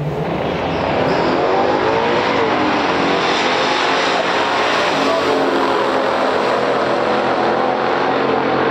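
A 1970 Plymouth Hemi Cuda and a 1969 Chevelle SS roar down a stock drag strip, loud sustained V8 engine noise building and holding for several seconds without a break.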